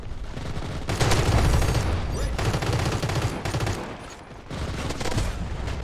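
Sustained bursts of automatic gunfire from the first-person shooter Crossfire X during multiplayer play, loud and dense with short pauses between volleys and no talk over it.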